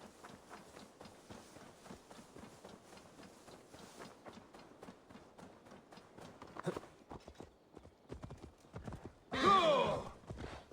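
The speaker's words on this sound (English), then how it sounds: "Now to deliver Magni his horse." Horse hooves clip-clop steadily in Assassin's Creed Valhalla, a run of close, regular footfalls with a brief neigh and a louder burst of noise near the end.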